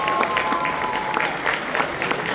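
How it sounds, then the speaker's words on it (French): At a cosplay contest and awards ceremony, an audience applauds loudly for the group of accessory makers, steady clapping from a crowd with a faint voice mixed in. "on les applaudit très fort"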